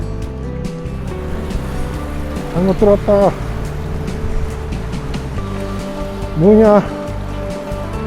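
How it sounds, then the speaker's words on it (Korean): Gentle sea waves wash onto the shore along Korea's east coast as a steady soft surf wash. People chat over it, with louder voices in short bursts. "잔잔한 파도 소리"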